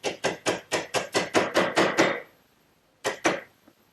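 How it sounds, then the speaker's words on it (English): A sharp chisel driven by mallet into a rabbeted corner of oak for a medicine cabinet: about nine quick, crisp wooden knocks in steady rhythm, a pause, then two more close taps, no talking. "So I'll clean out that area with a nice sharp chisel"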